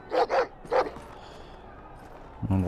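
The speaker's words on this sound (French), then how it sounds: "On le reconnaît, le chien, c'est le futur chien de Morse." A dog in a Game of Thrones video game barks three sharp, loud times in quick succession near the start, then falls quiet under faint background sound before a voice begins at the end.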